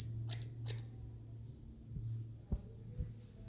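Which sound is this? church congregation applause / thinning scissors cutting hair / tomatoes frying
thinning scissors cutting hair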